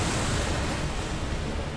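A rushing, broadband splash of water pours continuously in an Elden Ring boss fight, loud and steady like surf, with no voices over it.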